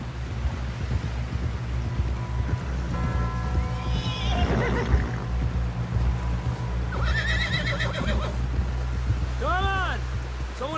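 A horse in the video game Red Dead Redemption 2 whinnies loudly a few times amid steady hoofbeats and wind, with voices talking over a constant low rumble.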